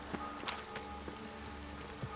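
Steady rain falls across a city in The Witcher 3: Wild Hunt, a continuous hiss with a few sharper drops landing on surfaces, heard faintly and with no voice.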